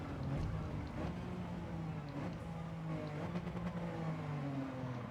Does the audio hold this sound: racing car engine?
yes